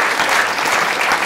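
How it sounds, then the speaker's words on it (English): A brief burst of dense audience applause at a university talk on prime ministers and Downing Street, loud and continuous with many hands clapping together. "I think they definitely deserve a round of applause for their brazenness."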